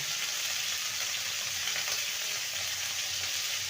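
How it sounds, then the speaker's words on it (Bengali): Cauliflower frying in a pan, a steady, fairly quiet hiss of hot oil with faint stirring, with no voices. "ফুলকপিটাকে ভালো মতো ভেজে নিতে হবে"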